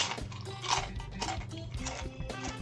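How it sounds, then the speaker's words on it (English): A person chews food close to the microphone during a Minecraft speedrun, with wet, irregular mouth clicks and crunches in a quiet, steady rhythm. "does it not sound like this guy is literally eating food?"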